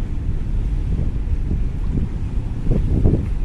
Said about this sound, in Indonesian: karena anginnya juga kencang, jadi menimbulkan alun nih